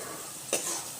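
Sev tameta curry mixture with turmeric and salt is stirred in a hot pan, giving a soft, continuous frying sizzle with one brief scrape of the spoon midway, quiet and close.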